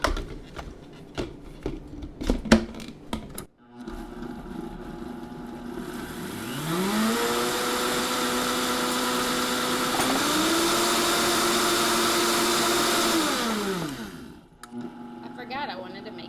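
A countertop blender grinds elderberries for a vegan breakfast smoothie, starting with a rising whine, then holding a steady loud roar that shifts up in pitch midway before spinning down; brief clattering handling noises precede it.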